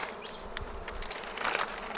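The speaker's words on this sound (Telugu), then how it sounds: "ఈగలు ఎలా వస్తున్నాయి" Honey bees swarm around a hive during a first-time honey harvest, a steady high buzzing that rises and swells, with wingbeats drifting closer toward the end and no talking.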